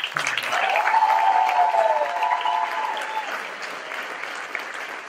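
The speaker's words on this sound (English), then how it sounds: "One more round of applause for" An audience gives a round of applause after a stage combat guest artist performance, steady dense clapping from a crowd that holds for several seconds and slowly softens, with a brief whistle rising through it.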